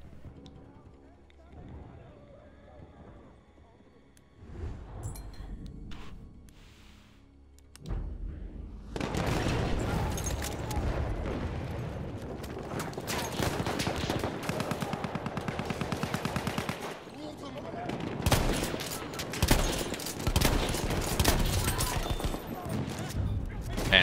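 Shotgun fire in Battlefield 1 multiplayer, with repeated loud blasts and bursts of shooting over chaotic battle noise after a quieter opening, with a player talking over it.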